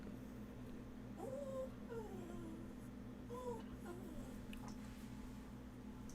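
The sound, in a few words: dog whining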